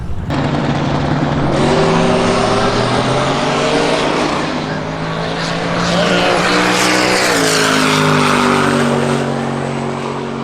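A drag racing car at a hot rod drag racing event gives a loud, roaring engine note that revs steadily with rising and falling pitch, idling and building up close by.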